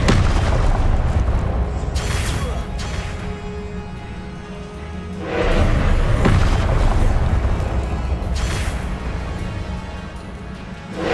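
Spell explosions in Hogwarts Legacy combat sound as deep booming blasts over a continuous rumble, with distinct bursts around two, five and a half, and nine seconds, loud and close.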